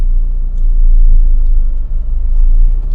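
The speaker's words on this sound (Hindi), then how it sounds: "एक पॉइंट के बाद इंजन से आवाज आने लगती है तेज आरपीएम की" A car engine drones loudly and steadily from close by, a deep rumble holding at high revs in first gear without pause.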